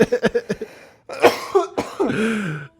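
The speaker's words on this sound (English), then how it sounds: "nobody would have guessed that you could get such a mean cough from just a simple vape device" A person coughs hard after a hit from a vape device: a quick run of sharp, close coughs, a short pause, then a longer, rougher coughing and throat-clearing fit.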